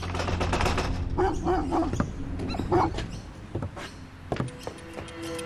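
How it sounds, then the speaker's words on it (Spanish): Several dogs bark in bursts over a rumbling background, with barks overlapping irregularly at moderate distance. "hay vecinos vigilando o perros ladrando"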